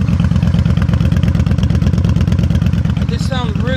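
Yamaha Stryker motorcycle with aftermarket pipes still fitted with baffles, its engine running and revving loudly up close in a steady, dense rumble, with a voice speaking briefly near the end.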